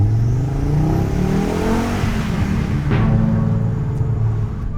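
An Audi Quattro UR turbocharged engine revs loudly and close, rising and falling in a throaty mechanical roar, with a whistling turbo and a brief sharp whoosh partway through, then settling back.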